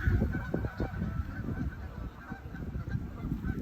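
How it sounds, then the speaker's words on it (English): Geese honk repeatedly in a loose, overlapping chorus, several birds calling close by a lake over a low outdoor background. "And geese over here too."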